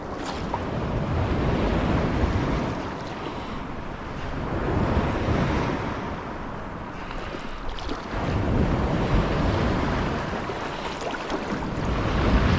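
Ocean surf and tidal flow wash steadily along a stretch of Isle of Man coastline, rising and falling in slow swells under heavy wind buffeting the microphone.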